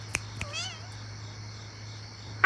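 A cat on a porch at midnight gives one clear, wavering meow after a couple of sharp clicks, sounding close and alone over a steady low hum, with a brief loud knock at the end.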